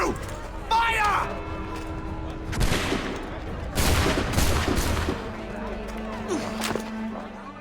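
A musket volley in the video game Assassin's Creed III during the Boston Massacre: a few sharp, loud cracks and booms in quick succession, with shouting voices and crowd noise around them.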